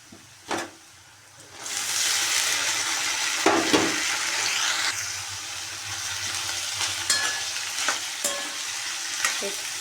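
Ghevda beans dropped into a hot pan of fried onion, garlic and curry leaves, a light clatter followed by a loud, sustained sizzle with intermittent stirring clinks and scrapes, close up, no talking.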